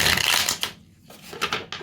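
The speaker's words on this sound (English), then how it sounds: "that was a really bizarre shuffle" Tarot cards shuffle close to the ear in quick bursts of riffling and slapping, pausing briefly in the middle before a few more crisp riffles, with no talking.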